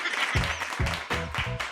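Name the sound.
audience clapping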